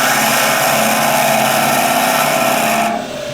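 A wood lathe fitted with a Vermec sphere jig spins at about 1000 RPM, a loud, steady high whine and hiss with a cutting rasp that holds evenly for about three seconds, then drops off abruptly.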